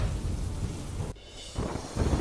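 Thunder rumbles heavily over steady rain in Porbandar district, a loud rolling crack that drops away for a moment before the downpour and rumbling swell back.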